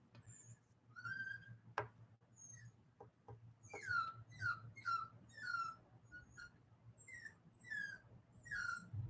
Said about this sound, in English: If you guys can hear the whining, that's the new puppy